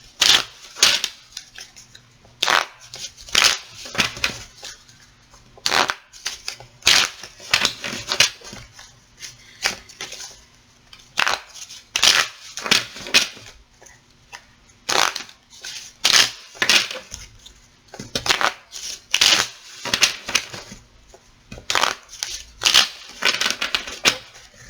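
A brand-new deck of tarot cards being shuffled by hand, close up, in repeated bursts of crisp riffling and slapping with short pauses between them.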